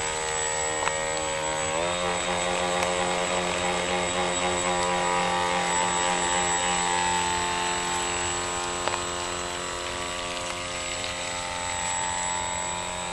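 A steady, droning propeller boat engine hums continuously at close range, with a constant buzzing tone and a slight pitch shift near the start.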